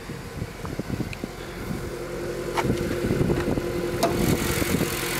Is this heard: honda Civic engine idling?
yes